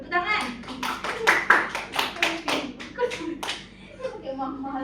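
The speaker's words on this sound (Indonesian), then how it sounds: "Tepuk tangan." A classroom of children clapping for a classmate, a quick run of distinct hand claps in uneven rhythm that thins out, with a voice and classroom chatter mixed in.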